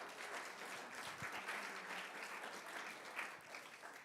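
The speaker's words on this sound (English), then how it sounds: "I think you all owe yourselves a round of applause for your support." A lecture audience claps together in a steady, even round of applause, quiet and somewhat distant, with a few sharper individual claps standing out now and then before it thins toward the end.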